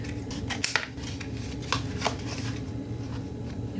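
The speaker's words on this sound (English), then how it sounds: "I'm going to cut this off." Scissors snip through a fabric scrap in a few quick, crisp cuts close by, with soft handling rustle between them.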